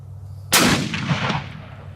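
A Ruger Precision Rifle fires a single Hornady Match round at a 200-yard outdoor range: one sudden, loud, sharp crack that rolls into a long echoing decay, with nothing else heard.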